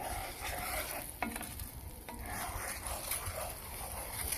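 Butter melting for English toffee is stirred in a pan, giving a steady scraping, rubbing stir over a soft continuous sizzle, close and moderately quiet with a couple of sharper clicks.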